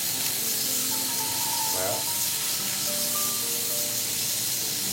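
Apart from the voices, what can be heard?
scallops searing and sizzling in a frying pan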